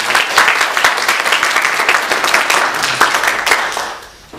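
A church congregation applauds during Sunday worship, dense steady clapping filling the room for several seconds before tapering off at the end.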